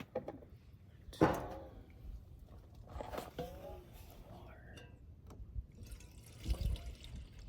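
Water poured into a cooking pot at a car campsite, a quick splash and trickle that comes and goes in short bursts, with quiet talk and whispery voices alongside.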